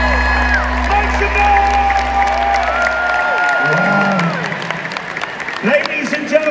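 An arena crowd at a musicals concert in Manchester claps and cheers, with whoops rising over the applause while sustained tones and a low hum sound underneath, and the noise thins out in the second half.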